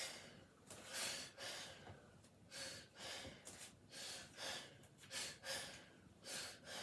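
A patient takes repeated deep breaths during a lung exam, each slow inhale and exhale rising and falling in a steady rhythm, close and fairly soft.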